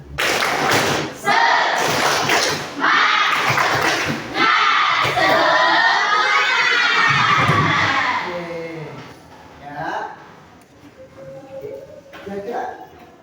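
Children in a classroom do a rhythmic spirit clap, sharp patterned claps and thumps under loud chanting, shouting voices for several seconds, then the noise drops off into scattered quieter voices and a few last claps.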